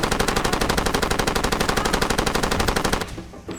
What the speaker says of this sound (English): Whole machine gun clip was ridiculous.